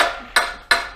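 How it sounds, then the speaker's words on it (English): Three sharp metallic blows from a copper hammer striking an engine part of a budget Zetec turbo build, evenly spaced and close, each ringing briefly before the next. "Let's use a copper hammer."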